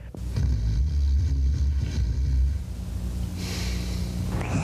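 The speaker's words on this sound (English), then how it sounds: "He was snoring so loud" Loud, low, rasping snoring from a man fills the first few seconds, a heavy rumbling breath that fades into quieter breathing noise.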